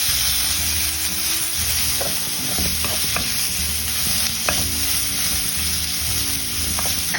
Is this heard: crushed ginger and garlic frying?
yes